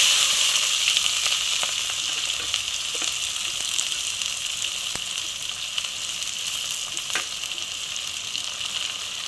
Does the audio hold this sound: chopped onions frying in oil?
yes